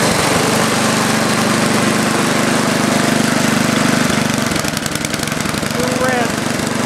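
A snow blower engine runs steadily after a cold start following a fuel leak repair, a loud, close, even idle with a slight change in tone partway through, while a voice talks over it.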